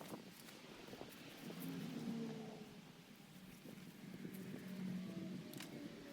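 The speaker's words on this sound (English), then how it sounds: "some of the cars that you hear go by are quite loud" Cars pass on a road near a garden bed, heard as soft, distant engine rumbles that swell and fade twice, mixed with faint wind noise.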